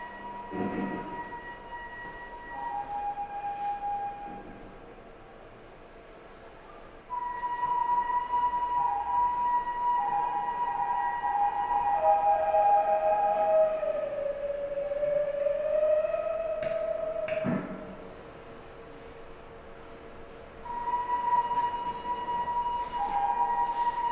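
Original 6,000-year-old archaeological flute sounding thin, breathy sustained tones that slide and waver in pitch, with a few sharp clicks, over a steady background hiss; moderate level, no talking.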